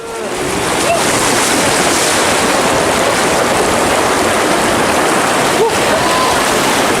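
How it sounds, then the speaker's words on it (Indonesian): Rushing lahar floodwater from Mount Semeru pouring down the Regoyo River channel at Candipuro, Lumajang, a loud, dense and unbroken roar of churning water and debris that holds steady throughout. "terseret banjir lahar Gunung Semeru"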